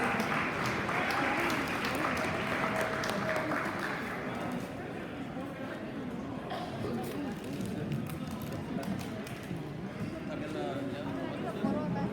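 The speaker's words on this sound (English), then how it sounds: "a big round of applause for all our teams today and all of our All-Stars" Parents and guests at a Monterey County All-Star soccer luncheon applaud the 2025 All-Star teams, a steady wash of clapping that fills the room for the whole stretch, with voices mixed in.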